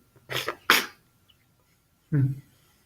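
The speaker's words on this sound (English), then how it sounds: "I had to blow my nose." Two short, forceful nose-blowing blasts close to the microphone, followed after a pause by a brief throaty sound.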